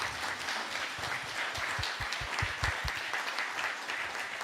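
A congregation claps during a Sunday invitation worship service, with a dense burst of applause running steadily through the clip and some sharper individual claps standing out close by, without speech over it.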